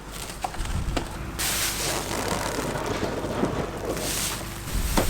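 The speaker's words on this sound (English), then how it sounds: "even the wind wants to wrap her off quick on this one. It's getting a bit blowy." Strong gusts buffet an outdoor microphone during a first ride on a new Ducati Scrambler 800 Urban Motard, a steady loud broadband roar with a sudden surge after the first second and no talking.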